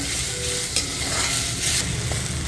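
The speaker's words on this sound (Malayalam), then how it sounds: "ഇത് നന്നായിട്ട് ഈ ടൊമാറ്റോ നല്ലതായിട്ട് കുക്കാകുന്നത് വരെ" Chopped tomatoes and slit green chillies sautéing in a kadai while kadai chicken is being made produce a loud, continuous frying hiss with occasional scraping stirs, and no voices are heard.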